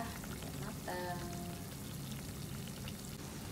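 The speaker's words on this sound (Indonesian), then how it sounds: "Goreng sampai kuning keemasan ya, matang." Gemblong, glutinous rice cakes, fry in hot oil in a home kitchen, giving a steady, even sizzle and crackle that holds throughout, moderately quiet and close.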